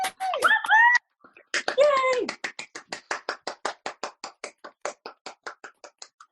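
A single person joins the weekly clapping for carers during COVID-19. Excited vocal sounds open the moment, then a quick, even run of about twenty crisp hand claps follows, close and distinct.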